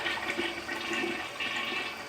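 A toilet in a house's hall bathroom flushes, giving a steady, close rush of swirling water that runs for the whole short stretch with no talking.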